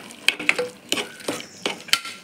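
Ground pepper, cumin and turmeric sautéed in a pan: a series of distinct spatula strokes scraping and clinking against the metal, about six in quick succession, over a light sizzle.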